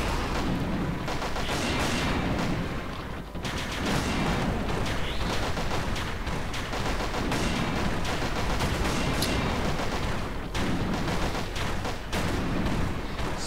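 Dense, sustained gunfire from a video game crackles without a break, rapid bursts layered with heavier booms, loud and close throughout with no voices.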